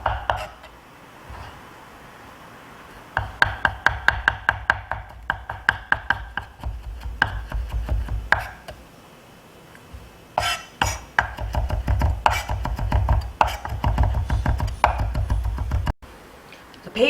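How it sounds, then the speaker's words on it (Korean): A knife chops garlic on a cutting board, slicing and then finely mincing it for Caesar dressing. Rapid, close tapping comes in several long bursts separated by short pauses, with no talking. "마늘은 곱게 편 썰고 채 썰고 다져주세요"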